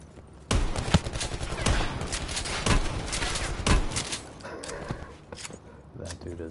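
Rapid gunfire from a shooter game called Blackout, with several loud, close cracks over a steady rattle of shots that eases off near the end, mixed with game noise and a voice talking underneath.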